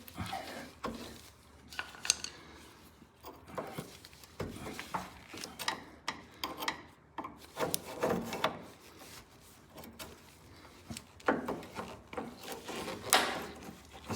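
Screwdrivers pry a steering bushing off a lawn mower, giving scattered hard clicks, scrapes and small metallic knocks at close range, with no talk.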